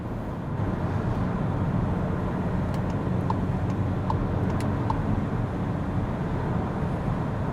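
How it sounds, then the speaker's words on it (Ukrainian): A Skoda Kodiaq with a 2.0 diesel engine accelerates hard with 140 kW, heard from inside as a steady, loud engine and road roar with no talking. "Даємо газу. 140 кВт це відчувається."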